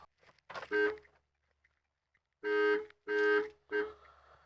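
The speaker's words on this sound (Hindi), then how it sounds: "अगर मैं दोनों बटन को एक साथ दबाता हूँ तो गाड़ी का अलार्म बजना शुरू हो जाता है" A Tata Zest car alarm blares in loud, repeated bursts: one long wail, a pause, then several more pulses in quick succession.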